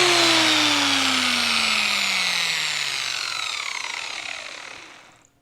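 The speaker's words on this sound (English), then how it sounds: "we'll go ahead and put that flap disc on there and see what it looks like" A flap disc on a grinder works the welds of a 1952 Chevy Styleline fender, giving a loud, bright grinding hiss over a whining tone that slowly drops in pitch as the tool winds down and falls silent.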